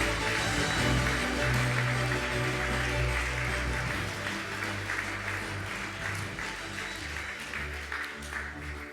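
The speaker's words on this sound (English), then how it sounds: "A round of applause, please." An audience applauds at a commencement ceremony for the class of 2024, steady dense clapping that holds for several seconds and slowly thins, heard from within the crowd.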